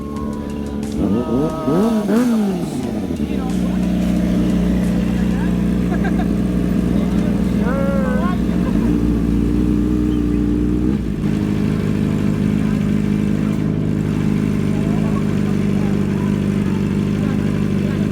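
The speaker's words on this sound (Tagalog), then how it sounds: "Parating ng mga big bike." Several big motorcycles roll in at a riders' meetup in Pangasinan, their engines droning steadily with a brief rev early on, loud and continuous throughout, with voices and crowd chatter mixed underneath.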